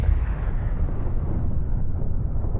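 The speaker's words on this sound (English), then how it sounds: "Explosion." An explosion in the video game 428 Shibuya Scramble, a loud deep boom at the start that rolls on as a long low rumble, fading slowly.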